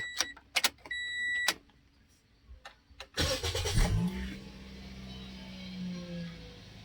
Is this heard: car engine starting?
yes